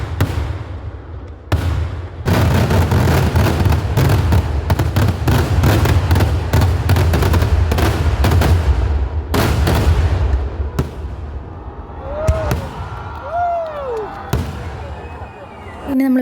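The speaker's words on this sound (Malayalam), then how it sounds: "നമ്മൾ കാത്തുനിന്ന് വെടിക്കെട്ട് ആരംഭിച്ചു കൂട്ടാ." Temple festival fireworks going off in a long, dense barrage of loud cracks and booms, followed by a few separate bursts with whistling rockets near the end.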